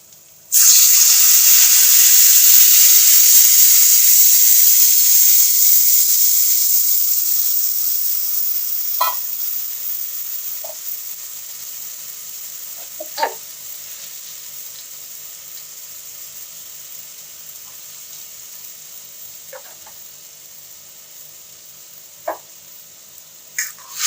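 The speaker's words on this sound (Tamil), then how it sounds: "இந்த புளி தண்ணி ஊற்றணும்" Tamarind water pours into a hot pan of curry leaves with a loud hiss that gradually settles into a quieter simmering sizzle, with a few faint clinks of a utensil.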